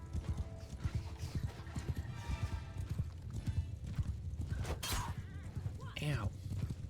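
Horse hooves clip-clop rapidly in a galloping rhythm amid Mount and Blade II: Bannerlord battle noise, with a whinny and clashing impacts close by and a voice talking over it.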